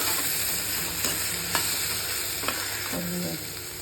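Onions sauté in a pan for tomato pachadi, giving a steady close sizzle with a few soft scrapes of stirring over about four seconds.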